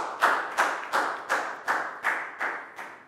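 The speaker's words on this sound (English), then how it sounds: "big round of applause" Short burst of classroom clapping from a group of pupils in a primary science lesson, eight even, rhythmic claps in unison, fairly close and loud, with no talking.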